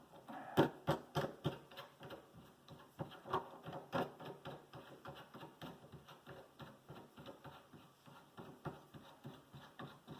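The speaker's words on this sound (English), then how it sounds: "it takes a little while to get the nut run down" A nut is turned down the threaded bolt of a fly line winder. It gives a quiet run of rapid, regular clicks and taps that slows and thins toward the end, with no talk.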